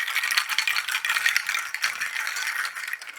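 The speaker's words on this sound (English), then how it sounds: "Usually it would mean just like scraping the percussion over and over," Percussion is scraped over and over to build a noise-like texture: a steady, dense, hissing rattle that keeps going without a break and carries no voices.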